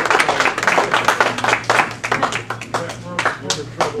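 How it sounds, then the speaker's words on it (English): A small audience at a lecture claps, a dense burst of applause that gradually thins out into scattered claps. "Let's give a rousing round of applause to Ellen Corley."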